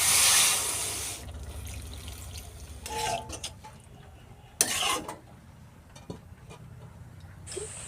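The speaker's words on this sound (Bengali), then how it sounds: "এখন এর উপর থেকে আমরা হালকা উষ্ণ গরম জল দিয়ে আরও 10 মিনিট রান্না করে নেব" Warm water is poured into a cooking pot of sautéed spices for an elephant-foot yam and prawn curry, giving a loud rushing splash at first, then softer trickles, stirring and occasional clinks of utensils against the pot.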